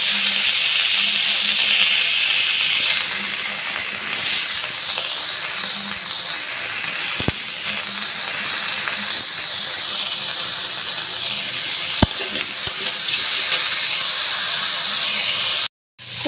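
Cauliflower seasoned with turmeric and salt fries lightly in a pan, a steady close hiss of sizzling oil running throughout with a couple of sharp clicks, no talking.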